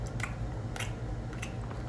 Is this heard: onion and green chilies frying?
no